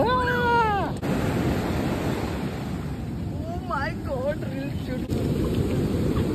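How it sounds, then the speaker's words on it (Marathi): Steady roar of surf washing over a South Goa beach, with wind buffeting the microphone and brief voices partway through. "बघा या लाटा."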